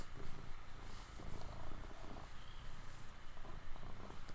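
A cat purring up close, a continuous low rhythmic rumble with soft breathy pulses, steady and fairly quiet.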